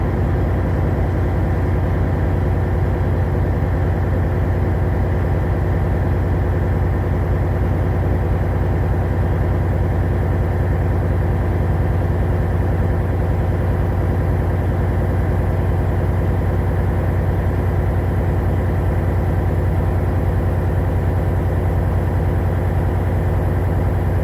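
A truck engine runs steadily at about 1200 RPM to drive the air brake compressor, a constant low heavy drone with no change in pitch or rhythm throughout, and no talking.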